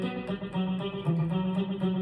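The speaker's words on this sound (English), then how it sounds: "turn the delay on, now you'll get that little double part" Guitar notes played through a Boss GX100 with a delay effect, each pick echoed as a quick doubled repeat in a steady rhythmic pattern, moderately quiet and close.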